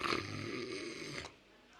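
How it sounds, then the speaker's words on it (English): A single drawn-out, rasping snore lasts just over a second and then stops, quiet and close. "the snore, first snore"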